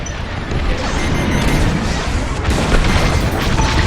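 Starfighter laser cannons and explosions in the space combat game Star Wars Squadrons, a dense continuous barrage of booming blasts and crashing bursts that stays loud throughout.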